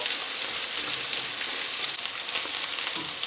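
Onions caramelising in a pan over medium heat give off a steady, even sizzle with faint crackles and pops, close and unbroken throughout, with no voices.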